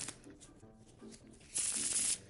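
Cards shuffled in the horror video game Martha Is Dead, a soft riffling patter that swells into a brief louder burst near the end, with no talk over it.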